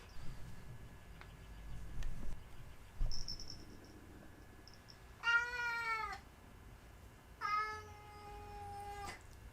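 A cat meows twice, drawn-out and fairly close, over a low background hum with scattered faint noises.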